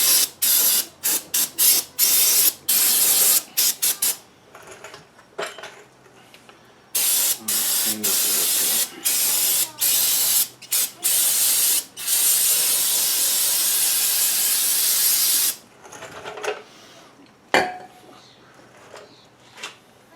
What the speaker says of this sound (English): I'm going to give that a bit of dousing and brake part cleaner